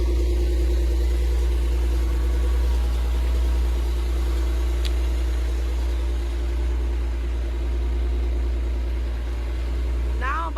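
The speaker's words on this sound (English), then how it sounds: "Now I'm about to start the Cadillac truck up." A 2021 Cadillac Escalade sits idling, its engine a steady, quiet low hum that holds unchanged throughout, with faint background noise over it.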